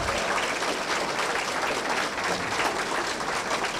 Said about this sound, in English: let's give all of our student athletes a round of applause